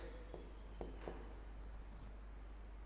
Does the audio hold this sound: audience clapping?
no